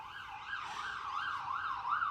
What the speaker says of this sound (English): I'm sorry if you can hear the sirens outside my window.